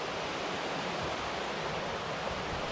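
A river flows past in a steady, broad rushing wash of water, loud and continuous with no breaks or voices.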